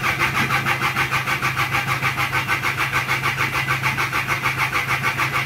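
A Hyundai Galloper diesel engine, slow to start, churns loudly and steadily as the key is turned, with a rapid rhythmic pulsing throughout.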